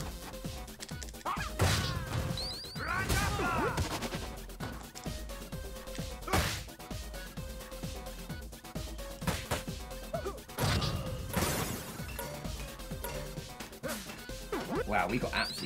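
Hammer strikes smash into enemies in the beat-'em-up video game Streets of Rage 4, loud crashing whacks repeating irregularly over busy game music and effects while players talk throughout.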